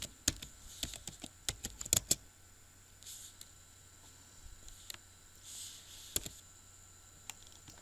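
Text typed on a computer keyboard into an Excel flowchart shape: a short cluster of sharp key clicks close up, then a quiet stretch with a couple of isolated clicks and faint soft rustles.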